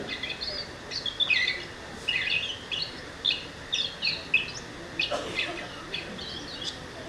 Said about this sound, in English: This is song sparrow of North America.